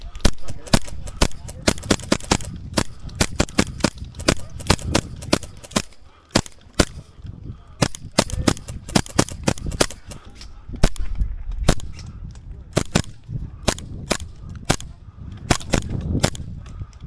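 Airsoft guns, including Tokyo Marui and Novritch models, fire rapid sharp snapping shots during an airsoft game at Humber, with dense irregular bursts close by throughout and brief voices in between.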